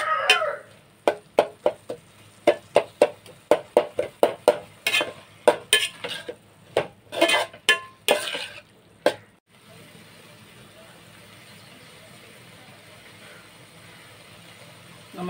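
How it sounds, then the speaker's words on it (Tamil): Tomato rice ingredients are sautéed and stirred in a pan. A quick run of sharp, rhythmic scraping strokes comes close by over a sizzle, then the stirring stops and a steady, quieter frying hiss carries on. "பாருங்க, நல்லா இந்த மாதிரி வதக்கி விட்டுட்டே இருக்கணும்."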